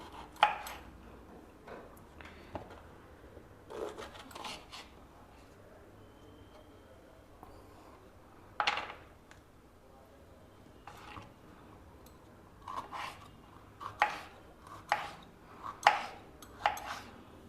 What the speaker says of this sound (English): First, we will chop the vegetables.